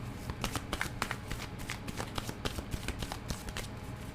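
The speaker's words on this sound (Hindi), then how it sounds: "मैं इसको फिर से शफल करूँगी क्योंकि कार्ड्स गिर गए थे।" A deck of tarot cards being shuffled by hand, with quick rapid riffling flutters and soft slaps repeating close and quietly for a few seconds.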